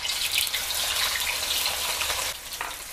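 Tofu fries in hot oil, a loud, close, continuous sizzle and crackle with no voices.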